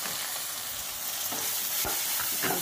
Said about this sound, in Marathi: छान आपण थोडा वेळ परतून घेऊया।